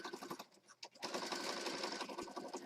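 A sewing machine stitching around the outside edge of a Christmas junk journal, with a brief start and then a steady, fast, close mechanical whir and needle rattle for about two seconds.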